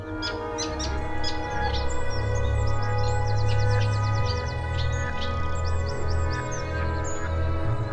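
Busy, rapid chattering reed warbler calls, repeated harsh chirps and trills over a low steady hum, with other birds in the background.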